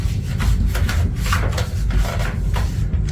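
A thin trim tool scrapes and rubs in a narrow gap, giving a steady run of close, loud rasping strokes with a woody, scratchy texture and no talking.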